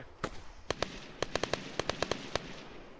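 Gunfire in ARMA 3 Altis Life, heard as a string of about a dozen sharp, cracking shots in irregular bursts, some spaced out and others in quick clusters, over a low background hum.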